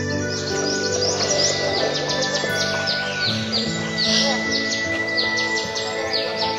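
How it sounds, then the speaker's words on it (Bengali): Many birds chirp and twitter continuously against a dense, steady background hum in the early morning at Darjeeling, the calls overlapping in quick bursts. "সুন্দর পাখির আওয়াজ পাওয়া যাচ্ছে।"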